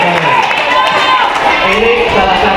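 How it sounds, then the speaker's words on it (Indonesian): A classroom audience of elementary school children applauds at a school try-out event, steady dense clapping mixed with crowd noise and voices throughout. "Tepuk tangan lagi boleh? Iya, harus tepuk tangan."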